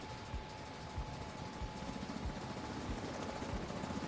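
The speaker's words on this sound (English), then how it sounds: "And that's the sound of a helicopter." A helicopter in the video game The Division 2 thuds with a steady, rhythmic rotor beat at moderate distance, the low pulses repeating about every half second over a constant engine hum.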